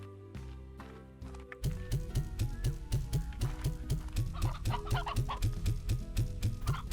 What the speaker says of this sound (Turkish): Benim de çok fazla tavuğum varmış ya.